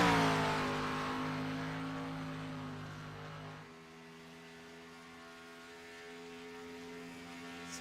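A Dr. Pepper-sponsored No. 49 race car running on track during qualifying at Michigan. Its engine drones loud and steady, then fades a little as it passes and moves off.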